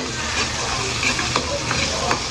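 Sliced onions sizzling and frying in a pan, a loud close steady crackle with occasional stirring scrapes.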